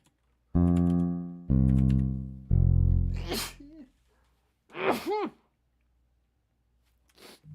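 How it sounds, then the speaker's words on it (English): A single gentle, restrained sneeze from a man, close and brief, following a stretch of sung or hummed syllables and with short vocal sounds around it. "That was a very gingerly sneeze."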